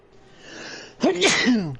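A single sharp human sneeze bursts out close to the microphone after a quiet, breathy lead-in, loud and brief, with no speech around it.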